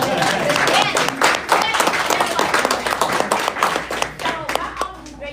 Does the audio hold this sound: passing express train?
no